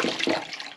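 Water gushing from a kitchen tap into a pot to boil potatoes, a brief close splashing rush with no talking.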